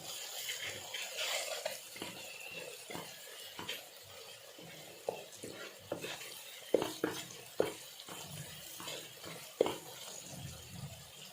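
Keema and salt being stirred in a pan of oil-rich tadka, with scattered sharp scrapes and taps of a spoon against the pan over a faint sizzle, close and fairly quiet.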